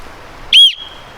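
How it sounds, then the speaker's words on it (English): One short, loud, shrill blast from a small whistle built into a Skywalker survival compass, about a quarter-second long and close up, then quiet. "Got this compass by Skywalker, also has the built-in whistle."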